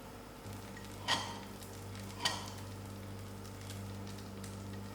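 Butter sizzles softly in a heated pot over moderate heat while making paneer makhani, a steady low fry with two brief clinks of a utensil against the pot.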